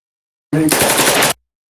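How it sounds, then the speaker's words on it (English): A gunshot sound effect: a short, loud burst of rapid gunfire, close and abrupt, cutting off sharply into silence. "I gotta give me some gunshot sound effects"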